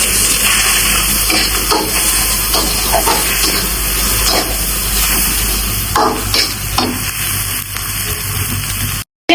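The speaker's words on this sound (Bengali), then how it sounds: "পেঁয়াজগুলা এখন আমি ভেজে নিচ্ছি" Steady, loud hissing sizzle of onions frying in hot oil, continuous and close, with occasional crackles and no voices.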